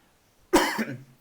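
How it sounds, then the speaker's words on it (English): A single close cough, a sharp burst trailing into a short rough exhale, with silence around it. "I'm coughing a little bit today"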